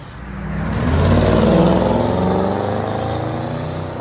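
A Ford Crown Victoria with a Carven exhaust revs up nearby, the deep engine note swelling loud to a peak then easing off into a rumbling idle, heard alone.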